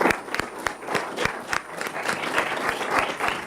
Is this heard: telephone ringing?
no